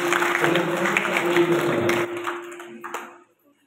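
An audience at a political rally applauds a local leader: dense, loud clapping holds for about two seconds, then fades and scatters into a few last claps before stopping.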